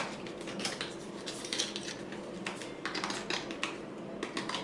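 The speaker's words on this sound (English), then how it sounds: "Yeah, your nails on that box." Fingernails tap and scratch rapidly on a cardboard box being unboxed, producing a dense run of soft clicks and ticks close to the mic, fairly quiet and without talk.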